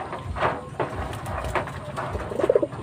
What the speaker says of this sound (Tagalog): Ayan mga kalapatids, ang ating panlaro.